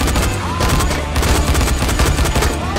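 Gunfire in the Dying Light video game comes as dense, loud bursts of rapid shots, a sustained fusillade filling the whole moment with little pause and no clear talk.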